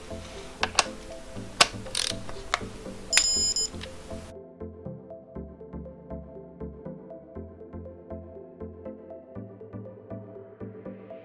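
A torque wrench tightens cam bolts on a Mazda MX5 turbo engine, giving repeated rapid ratcheting clicks that run as a steady mechanical train, with a few sharper knocks and clinks near the start.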